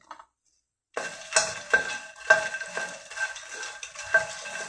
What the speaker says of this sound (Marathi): अतिशय मीडियम गॅसवरती आपण भाजतोय